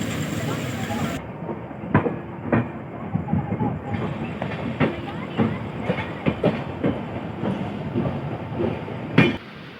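Train 14055, running from Mau Junction to Anand Vihar Terminal, pulls away from Ghaziabad Junction with a steady rolling rumble and irregular clickety-clack wheel beats over the rail joints, loud and close.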